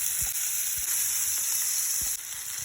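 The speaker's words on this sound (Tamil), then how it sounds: "ஆயில் நல்லா சூடாகிடுச்சு. இப்போ இந்த ப்ரான் இதில் சேர்த்துக்கலாம்." Prawns sizzle loudly in hot groundnut oil on a flat iron tawa, a steady close hiss of frying broken by a few soft low knocks, with no one talking.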